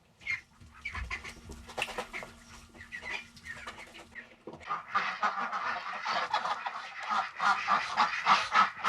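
Ducks on a working farm where birds are raised for slaughter, a crowd of them honking and quacking close by, sparse at first and then a dense, continuous chorus of overlapping calls.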